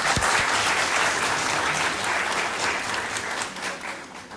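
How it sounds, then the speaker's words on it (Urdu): An audience at a volunteer-day gathering claps for the stage secretary, a sustained burst of dense applause that starts loud and slowly tapers over a few seconds. "میرا خیال آپ ان کے لیے تالی تو ضرور بجائی دیں"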